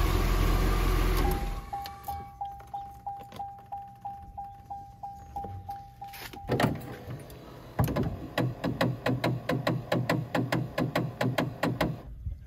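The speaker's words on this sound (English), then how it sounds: "The headlight motor on the passenger side I guess you heard that clicking." A 1992 C4 Corvette's passenger-side headlight motor clicks in a quick, steady run, stops briefly with a soft thump, then resumes as a louder, faster series of sharp clicks close by.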